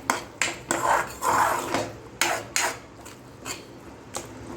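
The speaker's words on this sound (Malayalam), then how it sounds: "ഇനി നമുക്ക് ഇതിനകത്തോട്ട് ഏകദേശം 1 സ്പൂൺ ഫ്ലേവറിന് വേണ്ടിയിട്ട് ഒറിഗാനോ ഇട്ട് കൊടുക്കാം. അതൊന്ന് നല്ലതുപോലെ മിക്സ് ചെയ്യാം" Pizza sauce with oregano stirred in a pan with a spoon: a string of close scraping, clattering strokes against the metal, irregular in rhythm, with no talk.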